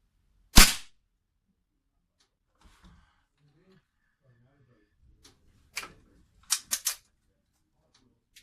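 An old Falcon Accuracy Plus air rifle fires a pellet with a single sharp, loud crack near the start, followed by quieter mechanical clicks and handling noises later on.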